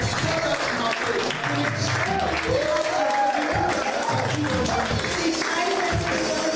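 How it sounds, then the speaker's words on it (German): A church congregation claps steadily and loudly throughout, a dense wash of applause with scattered voices and a few shouts mixed in. "Will you give God a clap of at this moment?"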